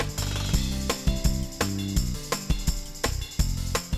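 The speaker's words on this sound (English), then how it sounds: "I use sandpaper and I will grind the top and edges of the cabinet from the old primer." Sandpaper grinds old primer off the top and edges of an old furniture cabinet in steady back-and-forth strokes, a regular rhythm of close, scratchy rasps about twice a second.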